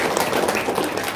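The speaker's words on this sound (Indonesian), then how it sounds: "Ayo, tepuk tangan dong." Audience clapping at a talk-show style event about business, a short steady burst of applause from a nearby crowd filling the whole moment with no pauses.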